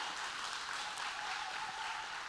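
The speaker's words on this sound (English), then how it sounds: "Let's give some applause for that." A congregation at a women's church retreat gives a round of applause, a faint, distant hiss of clapping held at an even level for a couple of seconds.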